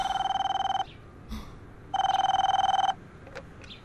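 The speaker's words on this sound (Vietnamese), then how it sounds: "có điện thoại nè" An electronic telephone bell rings in two loud bursts of rapid trilling, separated by a pause with faint rustling and clicks, near and without talk.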